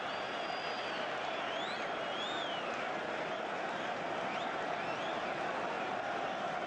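A football stadium crowd at a Premier League match between Chelsea and Manchester United roars in a dense, steady wash of distant noise, with whistles rising through it and no pause.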